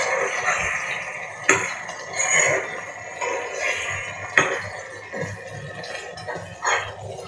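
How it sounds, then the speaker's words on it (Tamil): A spoon stirs thick coconut burfi mixture in a pan with soft scraping and a few sharp clanks against the metal at irregular intervals, close up and moderately quiet. "நான் விடாமல் கிளறிட்டே இருக்கேன்."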